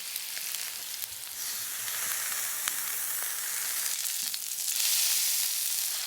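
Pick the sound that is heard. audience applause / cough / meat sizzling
meat sizzling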